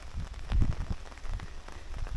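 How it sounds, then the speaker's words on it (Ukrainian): Rain driven by wind falls outdoors at a fishing spot, a steady rough patter with low gusty rumbling throughout, close and fairly loud, with no voices. "Дощ паде з вітром таким."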